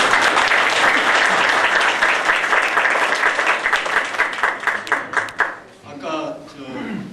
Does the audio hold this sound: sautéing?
no